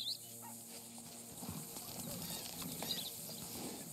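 Horse hooves clip-clop in Red Dead Redemption 2, soft irregular steps at low level under quiet game ambience, with a faint snort or whinny.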